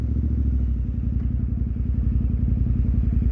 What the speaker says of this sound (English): The exhaust on this sounds so good.